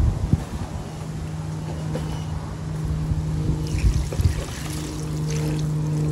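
Rainwater is poured into the centre of a petunia container outdoors, a steady trickling splash under wind noise and a low background hum.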